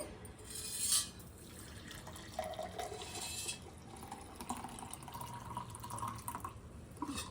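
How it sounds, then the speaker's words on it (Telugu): A homemade weight-loss drink is stirred and strained, giving close trickling, splashing and dripping liquid sounds that run continuously with no talking. "ఇవి శుభ్రంగా కలిపేసి చక్కగా కలిపేసి వడకట్టుకోవాలి"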